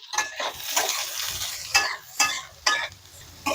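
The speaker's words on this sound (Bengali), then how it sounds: "এইভাবে আরো 2 থেকে 3 মিনিট আমি হালকা ভাবে ভেজে নেব" Capsicum and mixed vegetables fry in a little oil in a pan, a soft sizzle broken by repeated scraping strokes of a spatula against the metal, close up and without voices.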